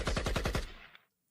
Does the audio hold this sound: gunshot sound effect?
yes